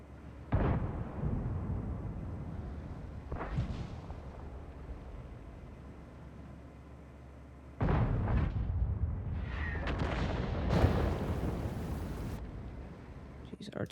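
Artillery shells exploding against a building in World of Tanks, several deep booming blasts with rumbling debris, the biggest impacts near the end, under a voice speaking in the background.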